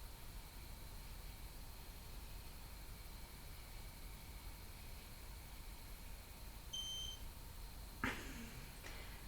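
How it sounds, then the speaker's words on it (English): An alarm system gives a few thin electronic beeps during a ghost hunt in an old building's loft, faint against a hiss of quiet room noise, followed near the end by a brief clatter. "Do you think the beeping is actually answering us instead of the ghosts?"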